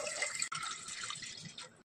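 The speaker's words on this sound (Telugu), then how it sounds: "ఇలాంటి గిన్నె అయితే ఒకటి పెట్టుకొని 3 గ్లాసెస్ ఆఫ్ వాటర్ యాడ్ చేసుకోవాలి." Three glasses of water poured into a pot, a short close splashing gush that runs steadily for under two seconds before stopping abruptly.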